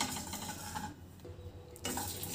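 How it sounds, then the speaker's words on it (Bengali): Panch phoron and a dried red chilli broken in two are dry-roasted in a pan over a medium-low gas flame. A spoon stirs and scrapes steadily over a light sizzle, with a brief quieter lull near the middle. "এবার এই মশলাগুলো গ্যাসের ফ্লেমটা মিডিয়াম টু লোতে রেখে একটু লাল লাল করে ভেজে নিচ্ছি"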